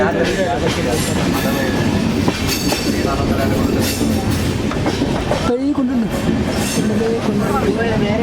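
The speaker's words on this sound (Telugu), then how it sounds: "ఆ ట్రైన్ చూడండి ట్రైన్ గుహలు పక్కలోంచి వెళ్తుంది" A train rumbles past up close on a hillside line beside tunnels in the Araku Valley, with rhythmic rattling of carriages and occasional squeals, while people talk over the noise.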